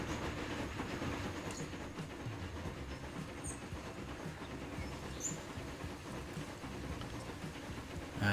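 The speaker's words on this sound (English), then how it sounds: "train makes its way down our new line." Train running along rails in the railway simulation game Transport Fever 2, a steady rolling rumble with faint rhythmic clicking over about eight seconds, even and moderately loud with no voices.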